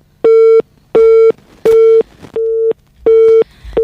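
After a call drops during a phone-in radio program, a loud busy tone repeats five evenly spaced beeps, each steady and about a third of a second long.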